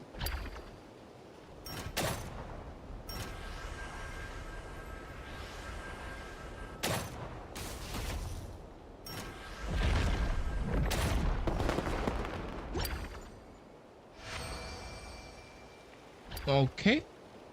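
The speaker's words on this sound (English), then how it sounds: "We freaked out over fireworks?" Fireworks pop and burst in Genshin Impact, a series of sharp cracks and booming explosions scattered irregularly over a low background, with a voice talking in between and a few louder bursts near the end.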